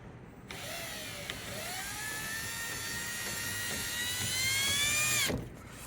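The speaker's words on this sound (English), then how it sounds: "spin it and run the sandpaper across it" A spinning part on a 1961 Shopsmith Mark 5 is worked with sandpaper, a steady high whirring whine with a rising pitch and a rasping hiss that holds for about five seconds before cutting off.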